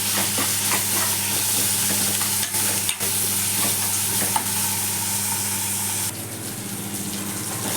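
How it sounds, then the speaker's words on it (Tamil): Onion and tomato sautéing in oil sizzle steadily in a pan, close and continuous, with occasional stirring scrapes and a low hum underneath. "வெங்காயம் நல்லா வதங்கினோன்னே கட் பண்ணி வச்சுருக்கிற ஒரு தக்காளியும் நல்லா போட்டு நல்லா எண்ணெயில் வதக்கிடணும்"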